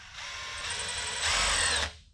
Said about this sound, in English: We'll let him drill those out right there